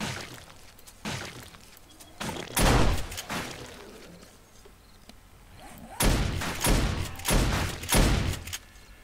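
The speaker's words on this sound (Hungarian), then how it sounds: "az a jó a turretekben, hogy sokkal pontosabb lőnek" Automated turrets fire guns in 7 Days to Die, Alpha 16.3, with bursts of loud, sharp volleys in irregular clusters, some rapid and rattling, separated by quieter stretches of game ambience.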